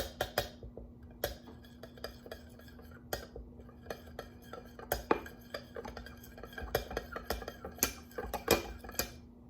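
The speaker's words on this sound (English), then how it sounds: "if I stir this up a little bit, I'm gonna melt it" A spoon scrapes and clinks against a pot while stirring cheese sauce to melt it, irregular sharp taps and scrapes close by over a steady low hum.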